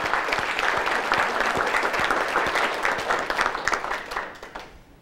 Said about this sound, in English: let's give Mayor Moeller another round of applause